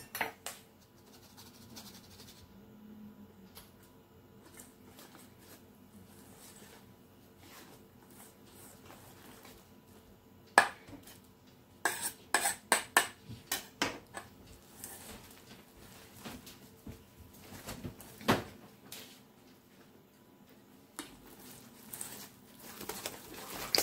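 All-purpose flour batter for apple pancakes stirred in a bowl, with faint scraping at first, then a run of sharp clinks and taps of utensil against the bowl, close by, with no talk.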